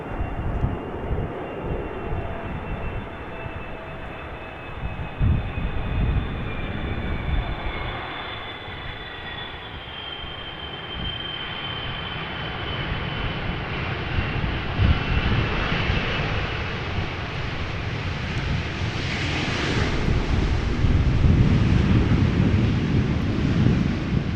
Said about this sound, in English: This is China Cargo Airlines, flight 209, arriving from Shanghai. 777 freighter